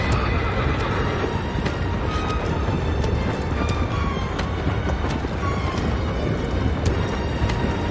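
Horse hooves clip-clopping in a steady gallop with a horse neighing in the video game Shadow of the Colossus, continuous and fairly loud over a busy game soundscape.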